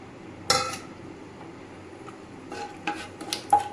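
Whole garam masala spices stirred in hot oil in a pan after paneer was fried in it, giving a few scattered clinks and scrapes of a utensil against the pan, with one sharp knock near the start and more in a short cluster later.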